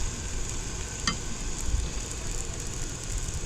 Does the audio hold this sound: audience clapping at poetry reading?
no